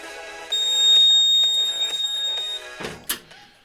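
An EST fire alarm system sounds during a system test: steady electronic alarm tones with a high sustained pitch that fade out, followed by a couple of sharp clicks or clunks near the end.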